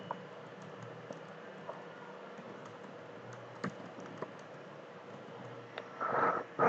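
Sparse keystrokes tap on a computer keyboard at an uneven pace against a quiet room, with a short, louder burst of typing near the end.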